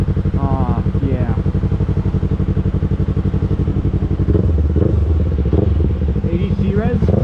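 A Yamaha YZF-R3 motorcycle engine runs steadily up close on a cold 39°F morning, its even rumble continuing throughout beneath people talking.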